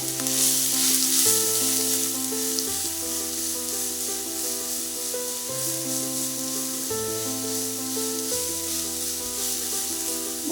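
Radish sizzles and fries in a hot pan, a steady loud crackling hiss with occasional stirring scrapes, close up and alone.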